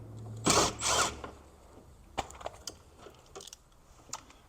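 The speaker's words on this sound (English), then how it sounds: "now we're going to take our T20, take off this little bracket right here." A T20 Torx driver works on a bracket inside a 2010 Lincoln Navigator driver door: two short close whirring bursts, then scattered faint clicks and ticks.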